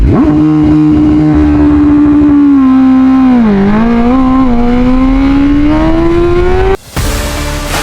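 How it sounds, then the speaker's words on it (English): A BMW M1000R motorcycle runs a launch-control start. It holds a loud, steady high rev near 8,000 rpm, dips briefly as the clutch is let out, then climbs hard in pitch while accelerating, and the sound cuts off sharply near the end. "Hold the button down. It should flash. 3 starts. Pin it. It's going to hold it at 8 grand. Let out the clutch."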